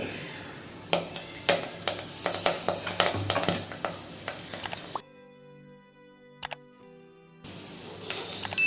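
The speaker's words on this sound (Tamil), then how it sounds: "இப்போ ஆயில் ஹீட் ஆனதும் ஒரு காஞ்ச மிளகா, ஒரு கருவேப்பிலை கொத்து," A dried red chili and a sprig of curry leaves crackle and sizzle in hot oil, with sharp popping bursts and stirring noises, broken by a brief near-silent pause before the frying resumes.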